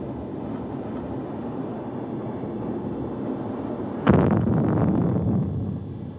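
A volcanic eruption rumbles with a steady low roar, then an explosion set off to divert a lava flow lands as a sudden broad blast about two-thirds through, followed by a lingering rumble that slowly fades.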